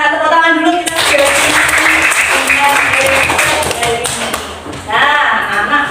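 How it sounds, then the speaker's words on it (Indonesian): A class of schoolchildren clap their hands in a classroom, a burst of loud, fast, overlapping claps from close by, with a voice and a teacher talking before and after it. "Tepuk tangan dulu kita segera."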